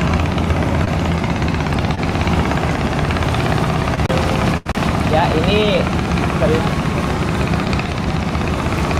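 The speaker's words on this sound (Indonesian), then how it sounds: "ini juga kapal yang digunakan oleh penumpang untuk bisa nyebrang" A passenger ferry boat engine drones steadily on the Musi River in Palembang near Pasar 16, a low, continuous throb with a few brief spoken words and a short dropout partway through.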